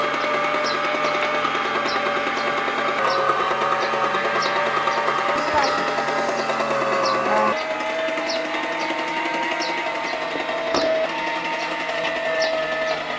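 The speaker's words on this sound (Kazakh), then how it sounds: "Енді етімізді еттарқыштан өткізіп аламыз." A meat grinder mincing meat runs with a continuous mechanical whir and a regular ticking rhythm, loud and close throughout with no pauses.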